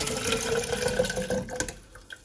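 Fixer draining from a black-and-white film developing tank, a trickling, splashing pour into a container that thins out and breaks into drips toward the end.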